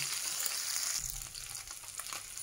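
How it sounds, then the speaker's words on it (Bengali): Bata fish fries in oil with a soft, continuous sizzle and some light crackle, fairly quiet and close, with no voices. "আর 2-3 মিনিট লাগবে বাটা মাছটা ভাজতে"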